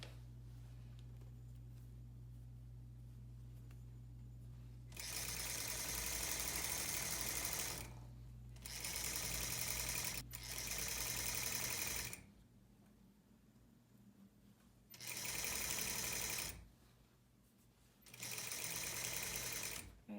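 A sewing machine stitches a tailored coat collar lapel in several bursts of fast, steady whirring, each lasting a few seconds and separated by pauses with quiet low hum.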